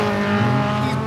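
Hot rod race cars slide and skid on an oval track under braking, a loud, sustained engine roar with tire squeal that holds for about a second, close and dominant.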